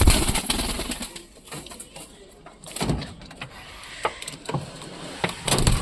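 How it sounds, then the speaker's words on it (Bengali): A caught pigeon held in the hand before release gives soft coos and brief bursts of wing flapping, fairly close, over a rustling, uneven background. "তো আমি একটা কবুতর ধরলাম,"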